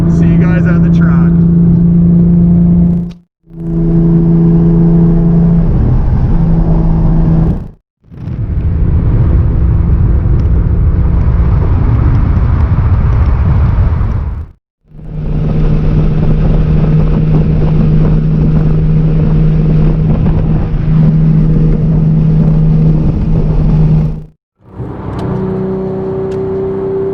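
Straight-piped manual Porsche GT3 and GT3 RS engines drone loudly on the highway, a steady low engine hum with shifting tones broken by brief gaps, mixed with wind rush.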